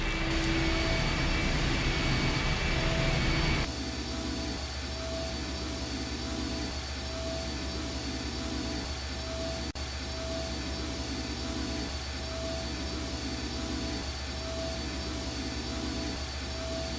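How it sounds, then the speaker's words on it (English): A machine engine in the game I Have No Mouth, and I Must Scream roars loudly at first, then drops to a steady, rhythmically pulsing mechanical hum that keeps running without talk. "The engine's starting up again."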